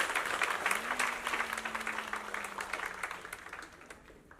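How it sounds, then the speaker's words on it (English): Audience applause at a school annual day, a steady dense wash of clapping that slowly tapers, with a brief sustained tone running beneath it. "Can we give them a big round of applause for that great noise?"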